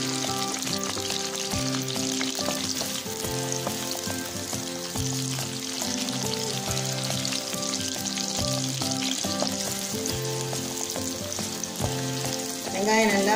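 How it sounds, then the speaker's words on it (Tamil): Onions frying and sizzling steadily in a pan while being cooked down for a mixed-vegetable chutney, a continuous close hiss with occasional stirring scrapes, no voices. "வெங்காயம் நல்லா வதங்கிட்டு இருக்கு"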